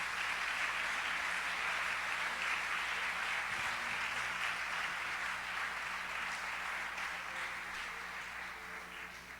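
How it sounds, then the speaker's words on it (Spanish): Church congregation applauding, a dense, steady wash of clapping that fills the room and slowly fades toward the end, with no voices over it. "Le da un aplauso fuerte a él."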